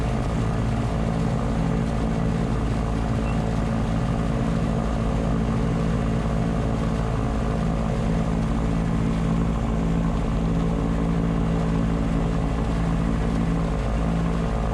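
A Shadow light aircraft's propeller engine runs steadily while taxiing at an airfield, a close, continuous droning hum that holds an even level throughout with no voices.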